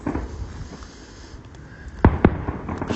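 Halloween fireworks over Southend-on-Sea, heard from a distance. A low rumbling background gives way to two sharp, louder bangs close together near the end, with no talk.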